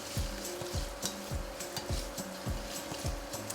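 Bacon frying in a pot, the start of a French-style beef stew, giving a steady sizzle under rhythmic scraping strokes of a stirring utensil, about one stroke every half second, close and moderately quiet.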